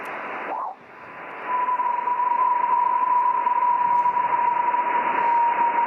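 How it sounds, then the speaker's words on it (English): Electromagnetic vibrations picked up by NASA's Voyager spacecraft in the solar system, converted to sound: a steady, loud band-limited hiss with a sustained pure tone humming through it, after a brief dip near the start, with no voices. "this is transmuted electromagnetic vibrations picked up by NASA's Voyager spacecraft as it was traveling through our solar system"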